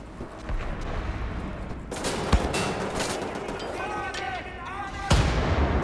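Cannon artillery fire in the video game Wolfenstein: The New Order, with loud booming blasts around two and five seconds over continuous gunfire and battle noise, plus voices and sound effects.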